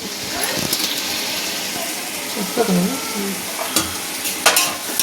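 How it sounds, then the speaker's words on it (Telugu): Tomatoes being stirred in a hot oiled pan for chicken majboos biryani, with a steady sizzle, scraping spoon strokes and a few sharper clinks, while a voice speaks briefly in the middle. "టమాటాలు వేసుకొని మంచిగా కలబెట్టుకోవాలి."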